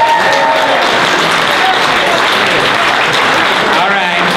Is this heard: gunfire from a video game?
no